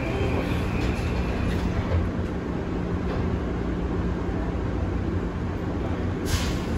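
A steady train rumble fills the whole stretch, a constant low roar of rolling rail cars with faint rattling and no talking.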